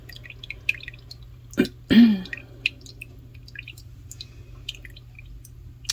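Herbal cough syrup of mullein and slippery elm drips through a cloth strainer bag, making sparse soft drips and small splats over a low steady hum, with a couple of louder wet sloshes near the start.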